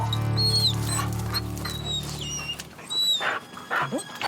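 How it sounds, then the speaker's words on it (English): Hounds tree barking at a mountain lion outdoors, high yelps and whines trailing off after a steady low drone fades, the dogs sounding somewhat distant. "Tree barking is what it's called, though sometimes it's the wrong tree"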